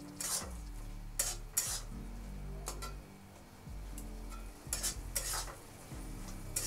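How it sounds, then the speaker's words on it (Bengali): A spoon stirs ground coriander, cumin and salt into a soybean curry in a pan, giving a few scraping strokes over a low steady cooking hum, close and fairly quiet. "এবার ভালো করে আমি মিশিয়ে নেব।"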